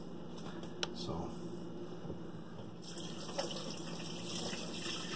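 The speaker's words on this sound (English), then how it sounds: "I'm going to just do a quick cold water rinse" Cold water pours steadily from a kitchen sink tap in a near, continuous rush, with a couple of faint clicks over the flow.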